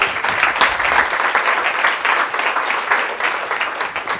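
Conference audience applauding after a health and well-being event, a steady dense wash of clapping that holds evenly throughout at moderate loudness, with no voices over it.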